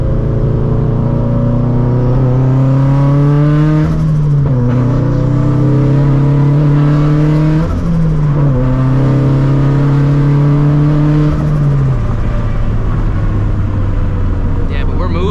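A 400 hp turbocharged Scion FR-S pulls hard through the gears, a loud droning engine note climbing in pitch with sharp drops at each shift, turbo whine over the top, heard steadily from inside the car.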